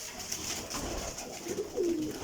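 Pigeons at a loft of parwazi flying breeds in Sari Alamgir, Jhelum, give soft, low coos near the mic, a couple of short throaty notes toward the end over steady background hiss.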